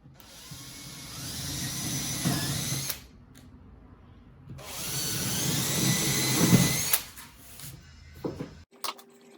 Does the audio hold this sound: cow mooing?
no